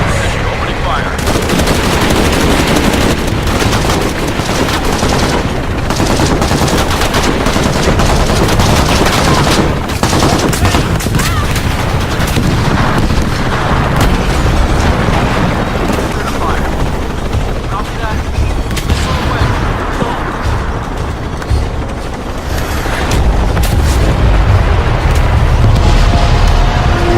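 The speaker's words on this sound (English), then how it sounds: "Pilot in forward position, opening fire." Sustained heavy gunfire in a Shadow of the Tomb Raider cutscene, with a helicopter gunship opening fire in loud continuous bursts over a rumbling rotor and explosive booms, close and dominant.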